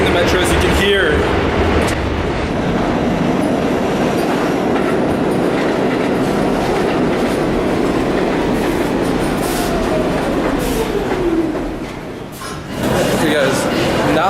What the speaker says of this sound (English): now we're gonna be taking the metro,